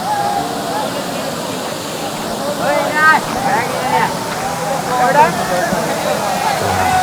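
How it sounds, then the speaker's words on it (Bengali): Rushing water from the first step of Rupashi waterfall in Sitakunda forms a constant roar under lively voices of people close by. "এই হচ্ছে সেই বিখ্যাত ঝর্নার ফার্স্ট একটা স্টেপ"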